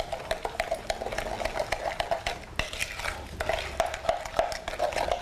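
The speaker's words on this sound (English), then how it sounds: "Put your eggs in, and then you stir." Eggs being stirred into a brown sugar and butter mixture in a bowl, with a quick, steady run of clinking utensil scrapes and taps against the bowl, close and alone without talk.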